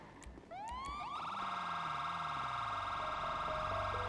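Police car siren winding up after a couple of short clicks, then holding a loud steady electronic wail close by, with an engine rumbling underneath and no talk.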